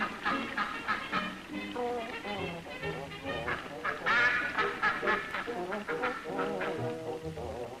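A duck quacks and honks repeatedly in short nasal bursts, close and loud, with faint human voices in the background.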